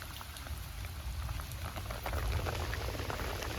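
Dense, steady hiss of heavy rain falling hard in a village, with constant patter of drops on surfaces and no voices, loud and unbroken throughout.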